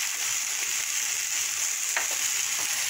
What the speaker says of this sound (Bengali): দিয়ে নাড়াচাড়া করে মশলাটা কষবো